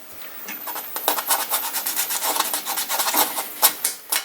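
Sandpaper scrubbed quickly back and forth over a bicycle inner tube to rough up the rubber for a puncture repair, a close, steady run of dry rasping strokes with no talking.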